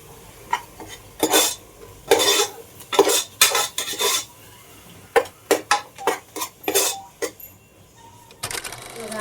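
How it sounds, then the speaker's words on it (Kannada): A spatula scrapes and clanks rapidly in an irregular rhythm as vegetables are stirred into frying masala in a pan for pulao. "ಮಸಾಲ ಜೊತೆ ತರಕಾರಿ ಹಾಕ್ತಿದ್ದೀನಿ."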